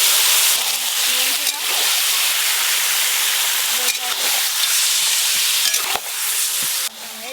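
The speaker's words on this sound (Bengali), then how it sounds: "লবণ হলুদ মাখানো খাসি মাংস প্রথমেই এবার কড়াতে দিয়ে দেবো।" Mutton pieces coated in salt and turmeric frying in a hot kadai give a loud, continuous sizzle with stirring clinks and scrapes, while a voice talks over it.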